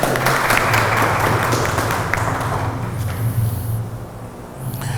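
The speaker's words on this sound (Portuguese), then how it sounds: "Uma salva de palmas a todos os professores desta instituição" Audience applause for the teachers at a college ceremony in an auditorium: a steady, dense wash of clapping that holds for several seconds over a low hum, then thins slightly toward the end.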